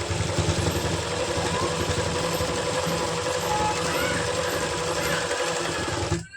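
A sewing machine stitches palazzo pants with a continuous, fast mechanical whirring hum that runs at an even pace and stops abruptly at the end.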